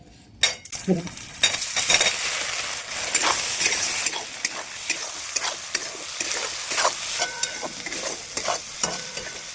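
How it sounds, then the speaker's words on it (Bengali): Soya chunks fry in butter with a little oil in a pan, giving a close, steady sizzle broken by repeated scraping and stirring clatter from a spoon against the pan. "বাটার দিয়ে সয়াবিন ভাজলে পরে এর স্বাদটা খুব সুন্দর আসে"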